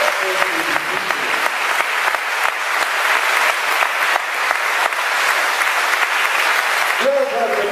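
Sustained loud applause from a big church congregation during Sunday Mass fills nearly the whole stretch, fading out near the end as a voice begins.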